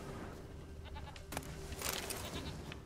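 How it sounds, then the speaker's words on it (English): Goat bleating in the fantasy video game The Witcher III, a few faint bleats heard from a distance over ambient game sound. "Does anybody else hear this goat, or am I going nuts?"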